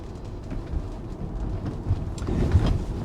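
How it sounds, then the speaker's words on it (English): Light drizzle with big raindrops striking a car, steady soft pattering and low rumble throughout with a few louder individual drops near the end. "Little bit of drizzle happening. The skies are getting a little bit dark, big drops."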